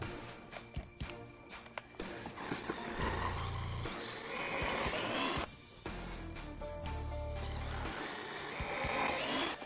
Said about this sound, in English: I'll use those small holes to drill some larger pilot holes in the opposite direction.